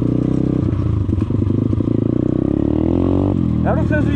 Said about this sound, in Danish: Skal vi kravle op af den her bakke med knallerten, eller hvad, mand?